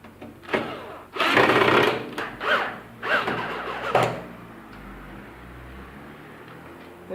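The back-cover screws of a microwave are driven back in, heard as several bursts of whirring and rasping screw-turning noise with short pauses between, close and fairly loud, followed by a quieter tail.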